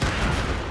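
A tank cannon fires in World of Tanks, playing the French AMX 38: a single loud, broadband boom that stays dense and rumbling through the whole brief moment, with no talk over it.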